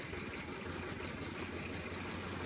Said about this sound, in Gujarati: ઓલો વેબ્રિજ ઉપર ટ્રેક્ટર ઉભું,